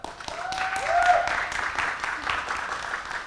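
Audience clapping at a ReThink Austin 2022 talk with a musician, a moderate burst of applause that swells and then fades, with a voice briefly heard over it.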